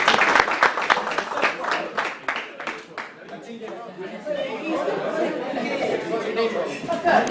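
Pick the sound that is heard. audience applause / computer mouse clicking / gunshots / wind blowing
audience applause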